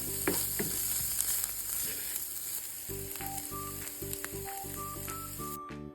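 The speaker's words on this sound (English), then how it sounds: "so that's why I'm sauteing this up inside of the pan. And I'm going to also add in my chopped broccoli" Chopped broccoli sautés in a hot pan with a bright, continuous sizzle, a few clicks of a utensil and a faint tonal beeping toward the end before the sound cuts off abruptly.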